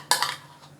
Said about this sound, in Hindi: लहसुन पेस्ट डालने के बाद फिर से मिक्सिंग स्टार्ट हो गई है